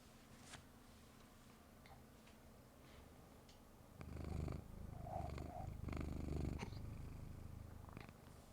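A sleepy cat purrs softly and close, a faint steady rumble that swells louder in the second half, with no voices and some small ticks and rustles.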